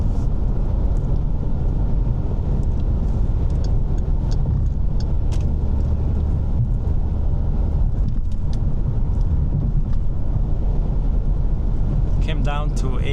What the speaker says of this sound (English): More cloud is coming in, and it became even windier.